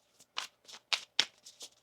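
Tarot cards being shuffled by hand, six or seven short crisp riffles and slaps in quick irregular succession, close and alone against silence.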